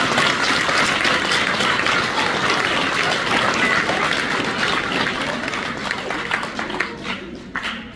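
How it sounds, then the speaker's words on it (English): An audience at a 5th grade elementary school award ceremony breaks into loud, dense applause that holds steady, then thins and tapers off near the end. "So a big round of applause for all of our group."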